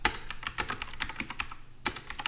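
Rapid typing of code on a computer keyboard, close and crisp, with a steady run of keystrokes and a brief pause near the end before more keys.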